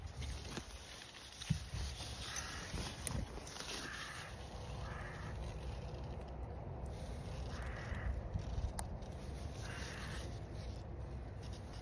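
Several crows caw in short bursts from a distance in an apple orchard in Nagano, Japan, faint over a soft outdoor background with occasional rustling.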